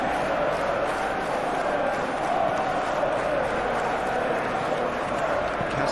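A football stadium crowd at a Manchester United vs Manchester City Premier League match cheers a defensive play. The dense, continuous roar stays loud and steady throughout.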